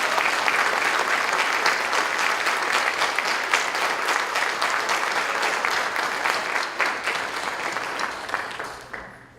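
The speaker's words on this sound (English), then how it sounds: "Let's give these all a big round of applause." A crowd at a high school senior honors night applauds loudly and steadily, with many hands clapping in a thick continuous roar that tapers off near the end.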